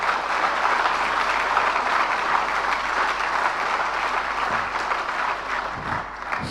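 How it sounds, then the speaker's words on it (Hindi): Dense, steady audience applause at a live religious discourse fills the whole stretch, loud and close, easing slightly near the end with no talking over it. "जरा तालियां बजा दीजिएगा।"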